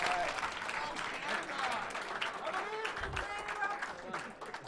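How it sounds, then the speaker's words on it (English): An audience applauds steadily throughout, a dense wash of clapping from a crowd, with a voice briefly audible beneath it. "Let's give a round of applause to our Iron Painters"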